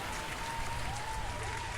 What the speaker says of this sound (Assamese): এটা ডাঙৰকৈ হাত চাপৰি মাৰি দিয়া।